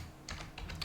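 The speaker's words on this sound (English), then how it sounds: "So if I were to be typing another line in here," Keystrokes on a computer keyboard while entering a command in PCLinuxOS Xfce, a quiet run of soft, irregular clicks close to the microphone with no one talking.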